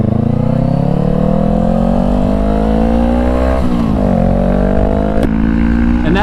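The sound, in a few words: Honda CBR500R motorcycle full exhaust revving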